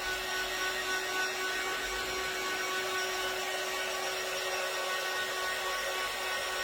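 A hand-held dryer blows steadily to dry paint on a display piece, a continuous close whirring hiss with a faint tonal whine, with no talking over it.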